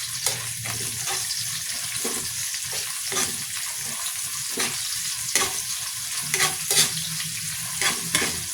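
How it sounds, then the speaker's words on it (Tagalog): Garlic and onion sautéing in a pan for a tofu and pechay dish, with a steady oily sizzle and repeated sharp scrapes and clacks of a spatula stirring against the pan throughout. "Tapos yung sibuyas naman ang isunod natin, igisa lang din natin to hanggang sa maging translucent."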